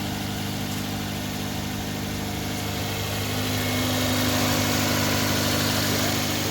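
A 1991 Toyota Celica engine idles close by with a smooth, steady hum and rumble that swells slightly toward the end, with no voices.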